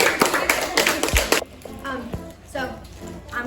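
Classroom of sixth graders clapping for a student after a how-to demo, a burst of brisk hand claps for about a second and a half before fading into chatter and voices.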